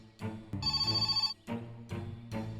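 A telephone rings close by in a series of short, bright electronic ring bursts separated by brief pauses, with no talking over it.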